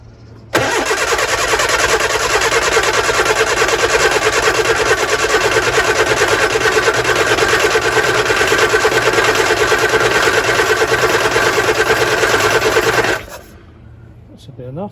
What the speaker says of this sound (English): Right, crank this over